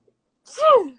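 A single short sneeze from a person during an indoor interview, close and fairly loud, rising out of silence and over within half a second.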